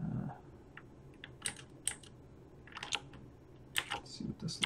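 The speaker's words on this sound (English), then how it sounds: "Sorry if the keyboard is loud, it's a mechanical keyboard." Mechanical keyboard keys clacking in irregular bursts of sharp clicks, near and fairly quiet, with pauses between runs of typing.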